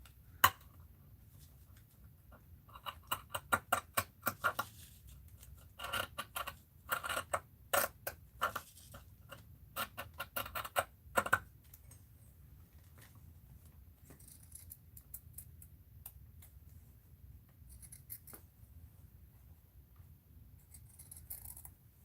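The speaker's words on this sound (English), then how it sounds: "And let's cut that." Scissors snip through craft material for a mixed-media steampunk project, a close, crisp run of rapid cuts in bursts over about ten seconds, then quieter handling noises.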